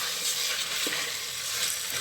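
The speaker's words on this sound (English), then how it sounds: "So I'm adding about a tablespoon of tomato puree. And my little chopped tomatoes." Tomato puree and chopped tomatoes go into a hot pan of pork, giving a steady close sizzle with soft stirring scrapes throughout, and no one speaks.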